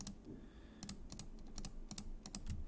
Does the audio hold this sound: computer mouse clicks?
yes